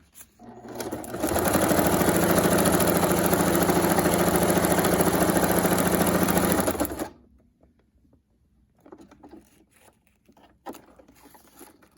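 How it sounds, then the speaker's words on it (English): A sewing machine runs steadily for about six seconds, stitching crepe paper trim, loud and close, then stops, leaving faint handling rustles and small clicks. "I'll just stitch this one up real quick."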